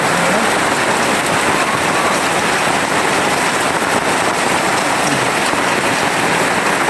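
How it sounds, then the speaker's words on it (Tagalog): Heavy, steady rain pours down without pause, a dense hiss drumming on surfaces close by, loud and continuous throughout. "Grabe ang malakas na ulan dito."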